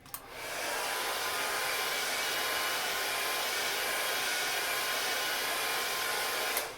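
Hair dryer running on low speed while hair is styled with gel, a steady close whooshing drone that switches on, holds evenly for several seconds and clicks off, with no talk.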